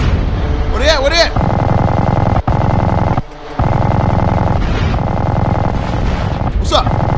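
Gunfire in GTA San Andreas as dense, continuous rattling shots with a few louder booms, loud and close, with voices speaking over it.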